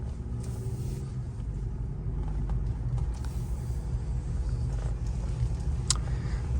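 Interior cabin sound of a 2020 Toyota RAV4 TRD Off Road on Toyo Open Country AT3 235/60R18 tires cruising, a steady low road rumble and tire drone with faint ticks and rattles, no talking.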